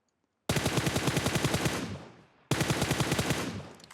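Two loud, close bursts of automatic rifle fire in PUBG, each a rapid string of about a dozen evenly spaced shots with a fading tail, separated by a brief pause.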